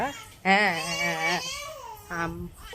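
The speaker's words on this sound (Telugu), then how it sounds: "పాప లేచిపోయి ఏడుస్తుంది అనమాట" A baby girl who has just woken up cries in two loud, close, wailing bursts separated by a short whimper, with no other talk.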